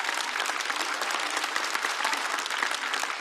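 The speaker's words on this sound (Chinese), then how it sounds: "我们再次把热烈的掌声送给张伟丽" Audience applause for Zhang Weili at a Chinese stand-up comedy variety show, a dense, steady burst of clapping from a large crowd, loud and continuous with no voices over it.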